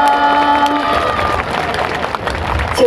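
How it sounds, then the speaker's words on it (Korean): A K-pop charity concert crowd claps and cheers for a group member. Sustained tones ring at the start and fade, then a loud, dense roar of applause and shouting follows. "여러분 다시 한번 모모리님 박수 한번 부탁드리겠습니다."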